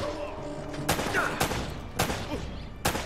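Gunfire in Uncharted: Drake's Fortune, with four sharp shots spaced about half a second to a second apart over a low game background. There is no talk.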